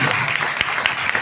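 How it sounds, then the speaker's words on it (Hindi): A church congregation claps together in a brief burst of steady applause, moderately loud and heard alone. "जोरदार ताली बजाइए।"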